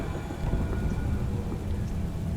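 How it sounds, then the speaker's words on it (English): Thunder rumbles with steady rain pouring down in a dark horror video game, a continuous loud storm bed with low booming under the hiss of rainfall, no voices. "It's cold and raining!"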